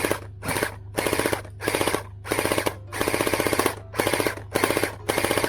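Gel blaster gun firing with its hop-up removed, outdoors, shooting in rapid full-auto bursts of about half a second with short gaps between them, loud and close, no talking.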